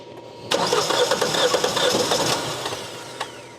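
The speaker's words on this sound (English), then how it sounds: "Go ahead, crank her over." A Hyundai Tucson with a misfire cranks over briefly and catches, then settles into a steady mid-pitched idle, heard up close.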